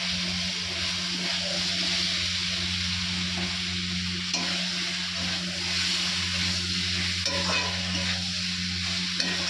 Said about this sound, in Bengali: সিদ্ধ করা আলু বেশি কষবো না, তো অল্প অল্প করে কষবো